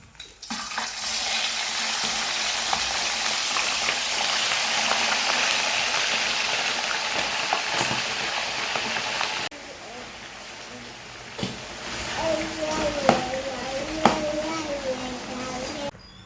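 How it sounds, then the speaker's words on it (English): Ingredients for Nigerian stew frying sharply in hot oil, a steady broad sizzle for about ten seconds, then a softer sizzle with a voice and children talking nearby. "So I'm going to be frying this particular one sharply"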